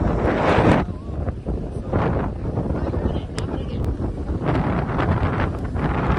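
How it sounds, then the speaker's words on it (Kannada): Strong wind buffets an outdoor microphone near a tiger reserve, producing loud, continuous rumbling gusts with brief surges and faint rustling. "ಗಾಳಿ ಕೇಳಿಸುತ್ತೆ"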